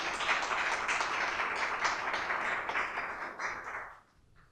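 A small audience gives Tatiana a round of clapping, with the close, even hand-claps sustained for about four seconds before quickly fading to near silence.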